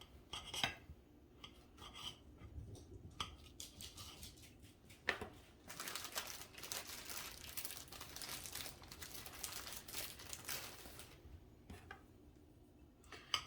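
Someone slices roasted pork loin, slow-cooked with a cherry glaze, with a knife, giving quiet, close scraping and cutting strokes in irregular bursts with short pauses between them.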